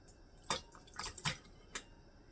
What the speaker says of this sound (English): we're going to fill the jars up